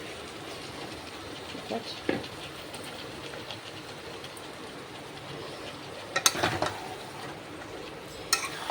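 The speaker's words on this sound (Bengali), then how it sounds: "এবার সেই চিকেনটা এটার মধ্যে দিয়ে দেবো। চিকেনটাকে ঢেলে দিই।" Marinated chicken poured into a cooking pot, heard as a brief clatter and slosh partway through over a steady kitchen hiss, with a short spoken remark nearby.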